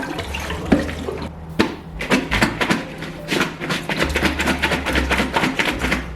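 Water being drained off cabbage, splashing and pouring steadily with gurgling bursts and clattering as it runs out, loud and close.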